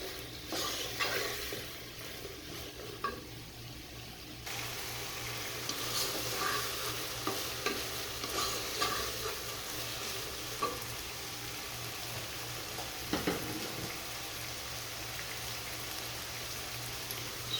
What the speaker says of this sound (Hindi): फुल आंच पे इसको कुक करेंगे ताकि सब्जियां जो वो हमारी थोड़ी क्रंची रहें